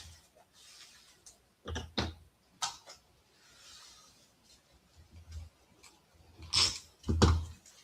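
A handful of small, crisp snips of micro-tip scissors cutting paper, scattered across quiet room tone, a couple of them sharper and louder near the end.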